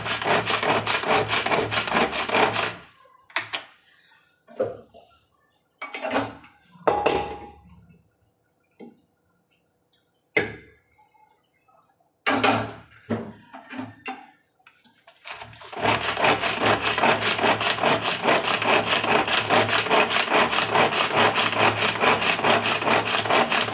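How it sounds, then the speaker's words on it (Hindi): An electric food chopper in a home kitchen whirs loudly in a long burst, falls into a stretch of scattered clatters and pauses, then runs again steadily to the end. "इसको चॉपर कर देंगे।"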